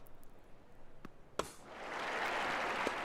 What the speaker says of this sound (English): The crowd are loving this rally at the moment.